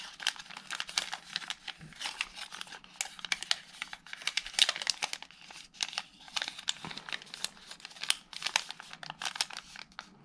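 Crisp paper crinkling and creasing as an origami bull takes shape through mountain, squash and valley folds, with steady close rustles and sharp crackles, no talking.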